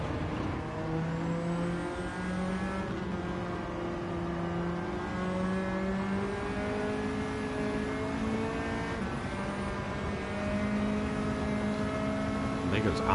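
Gran Turismo 7 race cars with engines revving continuously, rising and falling harmonic whine as gears shift, steady and loud throughout with talk faintly underneath.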